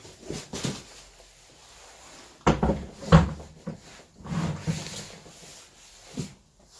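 A bench vise is lifted out of its cardboard box, with scattered rustles, scrapes and a few heavier thumps of cardboard and metal, close by and fairly quiet, with pauses between the movements.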